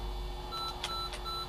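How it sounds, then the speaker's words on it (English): Electronic beeping from the ZX Spectrum version of the Super Monaco GP racing game, a thin steady tone running under brief brighter chirps and a low constant hum. "What is that beeping noise?"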